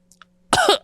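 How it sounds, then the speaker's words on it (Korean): After coffee goes up the nose, a person gives one loud, harsh cough close by, then starts a second. "저는 마시던 커피를 삼키지도 못하고 기침을 하며 코로 뿜어버렸습니다."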